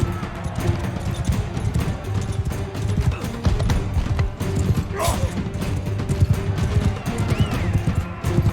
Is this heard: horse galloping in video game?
yes